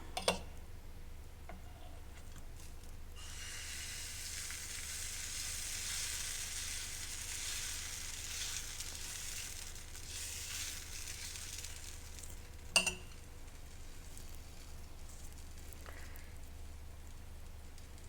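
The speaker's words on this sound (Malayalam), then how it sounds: "നമുക്കെന്നാൽ അത് കല്ലിൽ ചുട്ടെടുക്കാം ദോശ." Maida dosa batter sizzling steadily on a hot stone griddle, a continuous close frying hiss with a few faint ticks and one sharp clack near the end, no voices.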